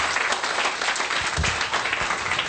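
A church congregation applauds during a worship service, a steady wash of many hands clapping at close range with no pause.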